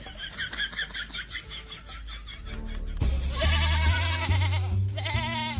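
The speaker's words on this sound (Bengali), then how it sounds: "ব্লকে ছাগল ঢুকেছে" A goat bleats several times in quick succession, loud and close, with a longer wavering bleat near the end and no speech.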